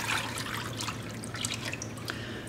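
Water from washing wild mushrooms pours out in a steady, close splashing trickle with small drips, continuing without pause for a couple of seconds.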